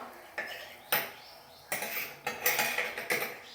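A rava chapati gets turned over on a hot tawa with a flat metal spatula, producing a series of sharp clinks and scrapes in uneven bursts, close and clear with no voices.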